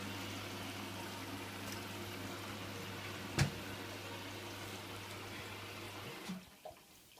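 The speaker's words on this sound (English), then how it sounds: "So I'm going to put the machine on now." Hotpoint washing machine beginning a normal wash cycle, water running in as it fills with a faint steady rush and low hum, a single sharp click partway, then quieter.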